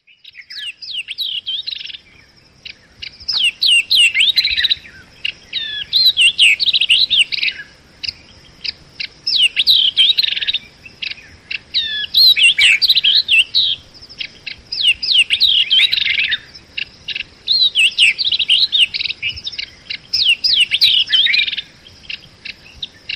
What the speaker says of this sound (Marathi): आता पक्ष्यांची गाणी आणि पक्ष्यांचे आवाज असे दोन प्रकार आपल्याला लक्षात येतात.